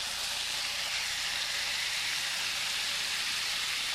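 Swordfish steaks searing on a hot grill give a constant, dense sizzling hiss, close and steady throughout with no break and no voices.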